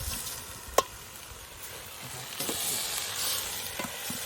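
Tomatoes sautéing in a pan for a village-style chicken biryani make a steady, moderate sizzle, with one sharp metallic clink early on and a few light stirring scrapes later, close and without voices.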